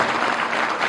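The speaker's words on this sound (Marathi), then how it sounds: "जरा गायक लोकांसाठी आणि वादक लोकांसाठी जरा जोरात टाळ्या वाजवा." Applause for singers and musicians at a devotional kirtan gathering at a Marathi temple, a dense continuous wash of many hands clapping, steady and fairly loud throughout.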